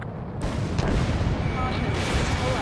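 A missile strikes its target in the air-combat video game Ace Combat 7, giving a loud, close boom that swells into a sustained rumbling roar and lingers to the end.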